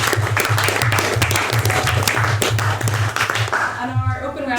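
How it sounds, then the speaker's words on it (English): A debate audience applauding steadily, dense clapping throughout with a low hum underneath, fading slightly toward the end. "So, clap for Lily."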